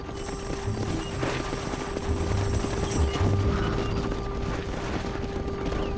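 Horses galloping in the Red Dead Redemption video game, a faint, steady rhythm of hoofbeats under a sustained droning tone and background game ambience.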